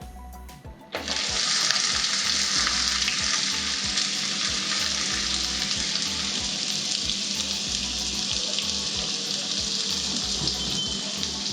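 Onions with cinnamon and cardamom dropped into hot oil, bursting into a loud, dense, hissing sizzle about a second in that holds steady and close until the end.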